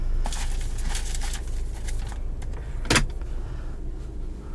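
Sunroof motor of a 2017 Volkswagen Jetta GLI running inside the cabin, a low steady electric whir with small clicks and one sharp clunk near the end, no talking.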